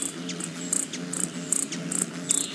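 Hummingbird wings buzzing in a steady, close, low hum, with short high chirps breaking through at regular intervals.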